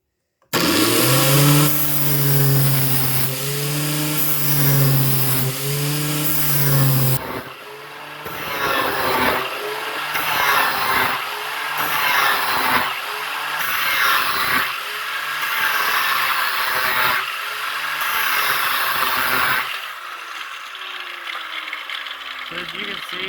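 An AllAmerican Sharpener Model 5005 GEN2 grinds a 33-inch Snapper mower blade, a loud steady motor whine with harsh metallic grinding that surges in repeated passes, first as a smooth tonal hum, then a rougher pulsing scrape before trailing off.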